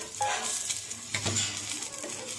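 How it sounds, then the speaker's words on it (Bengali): Eggplant slices frying under a lid on a medium flame for a crispy Bengali begun bhaja, a steady close sizzle and crackle with brief clinks of stirring. "মিডিয়াম ফ্লেমে এইভাবে ঢেকে ঢেকে ভাজতে হবে।"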